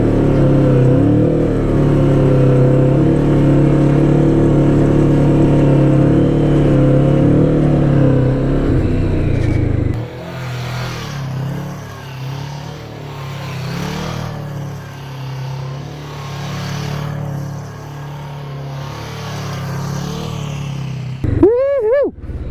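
A Kawasaki Vulcan S motorcycle engine drones loudly and steadily while riding, then drops into lighter, uneven revving with wind rush, ending in a quick rising whine.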